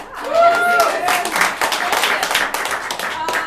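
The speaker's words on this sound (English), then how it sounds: "Let's clap for this." An improv comedy audience in a theatre breaks into a burst of clapping and applause, loud at first then thinning out, with a voice speaking over the start.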